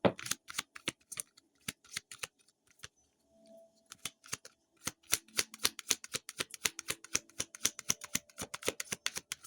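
Playing cards are shuffled in a quick series of crisp riffling snaps, sometimes pausing briefly before the rapid clicking starts again, close and fairly quiet.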